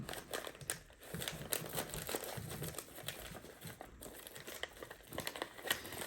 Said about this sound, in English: So I'm gonna get that paper to rip.